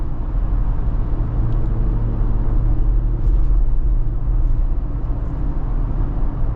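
A 2025 AEV Jeep Wrangler JL370 Venture rolls along a road, giving a steady, loud low rumble of engine and tire noise that stays even and unbroken throughout, with no voices.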